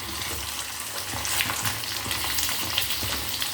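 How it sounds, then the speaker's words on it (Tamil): Boiled, cut taro root (seppankizhangu) frying in hot oil for a kuzhambu, a steady loud sizzle with crackling bubbles and occasional stirring, heard alone without talk. "இப்போ நான் எண்ணெய் காயுது இல்லையா, இந்த எண்ணெயில் இந்த சேப்பக்கிழங்கு போட்டுப்போம்."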